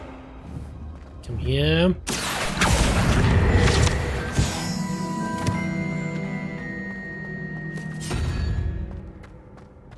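A Confringo spell from the Hogwarts Legacy video game goes off in a loud whooshing crash and booming blast that rumbles for several seconds, then a second thump follows near the end, with a person talking briefly over the game sounds.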